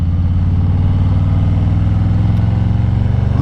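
A Harley-Davidson Low Rider S 117 V-twin cruiser rumbles steadily at speed on a Houston city road, its deep, loud pulsing engine note constant throughout with no voices.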